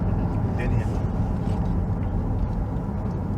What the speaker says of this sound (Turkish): Şurada bir ara hızlanma yapalım mı gençler?